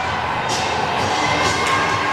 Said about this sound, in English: As this crowd is going crazy.